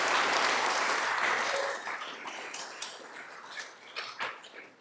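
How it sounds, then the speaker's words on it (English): Applause at a city council meeting honoring 25-year service award recipients, loud at first and then thinning into scattered claps and fading by the end. "Please join me in a round of applause for our 25-year service award recipients."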